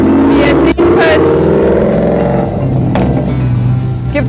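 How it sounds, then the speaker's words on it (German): Loud cars drive past a gated community of houses and condominiums at Harbor Lakes, a steady, close engine roar swelling and easing over the whole stretch with no break. "gibt es natürlich auch sehr laute Autos, die vorbeifahren"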